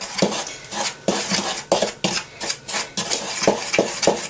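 Batter for mushrooms is mixed in a bowl: a rhythmic run of scraping strokes and utensil clinks against the bowl, close and fairly loud, with no talking.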